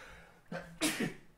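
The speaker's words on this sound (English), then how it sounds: "I gotta sneeze." A single person sneezes close by, a short breathy intake followed by a sharp burst, in a quiet room.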